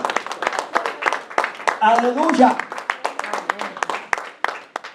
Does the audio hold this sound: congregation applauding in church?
yes